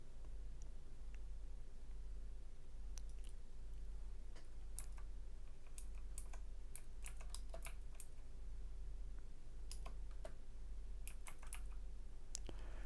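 Steady clicking of keystrokes on a computer keyboard, in irregular bursts over a constant low electrical hum, with no talking.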